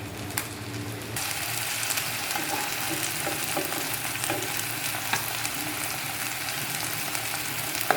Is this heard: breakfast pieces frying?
yes